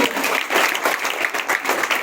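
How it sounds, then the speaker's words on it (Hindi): Applause for a Class 7 student placing third at a school Women's Day 2024 event, a steady burst of clapping from a gathered audience filling the full two seconds. "तालियां बजाइए इनके लिए।"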